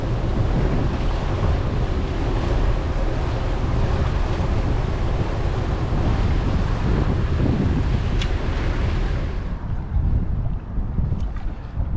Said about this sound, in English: it's another windy evening